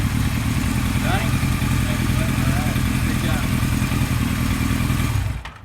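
A 1976 Kawasaki KZ900 motorcycle engine runs steadily with a dense, continuous mechanical drone, loud and close throughout, then cuts off abruptly near the end.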